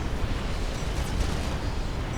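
Tactical missiles from massed launchers in Supreme Commander: Forged Alliance burst in a rolling chain of deep, rumbling explosions, heavy and continuous with no talk.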